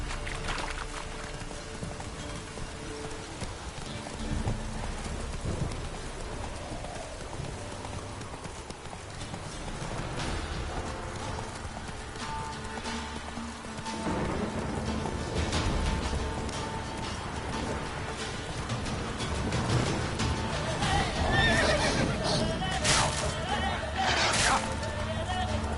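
Hooves clip-clop steadily as a horse gallops in a video game, a continuous rhythmic beat running the whole time beneath game voices and background sound.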